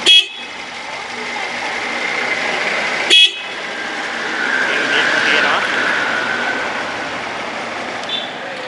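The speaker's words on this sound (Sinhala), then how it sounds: "හෝන් දෙකක් තියෙනවා." The second horn of a 2001 Honda CD 125T Benly five-gear motorcycle gives two brief toots about three seconds apart, close and sharp over a constant hissing background.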